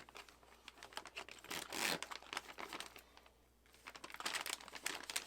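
A plastic bag holding gun cleaning kit parts being opened and handled, close crinkling and rustling in irregular bursts with a short quiet pause midway.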